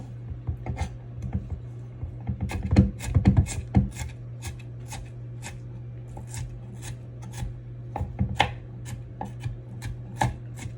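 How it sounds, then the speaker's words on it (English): A knife chops cucumber finer on a cutting board for homemade tzatziki, giving quick clusters of crisp taps, busiest in the middle and near the end, over a low steady hum. "I will cut them up a little bit finer than they are right now. Just run through it with my knife"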